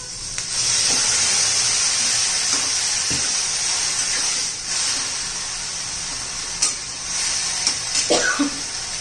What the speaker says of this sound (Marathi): आता गवार शिजण्यापुरतं पाणी घालायचं आहे.